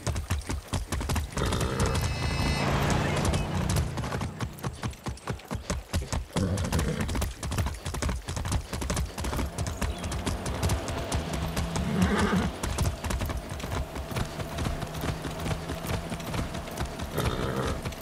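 Horse galloping in Far Cry 6 on PS5, a steady rapid clip-clop of hooves running throughout with a couple of whinnies early on, loud and close over game ambience.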